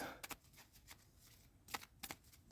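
Tarot cards being shuffled, several quick riffling bursts spaced irregularly, close and soft against a quiet room.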